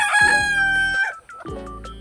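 A chicken, noted as a native or Rhode Island breed, crows loudly and nearby, with a second harsh clucking call following after a brief pause.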